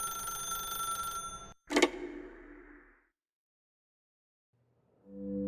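A telephone rings once in The Stanley Parable Ultra Deluxe, a sharp, bright burst after a humming tone. The ring decays into silence before a low tone fades back in.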